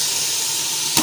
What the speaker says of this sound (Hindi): ताकि आलू जो है ना इसके साथ फ्राई हो जाए